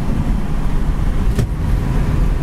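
A 1967 Ford Mustang Fastback cruising down the road, heard as a steady, close low engine and road rumble from inside the car, with one brief sharper burst midway and no talking.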